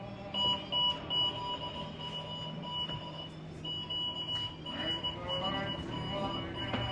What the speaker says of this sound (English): You can hear it going off, beep beep beep beep beep beep.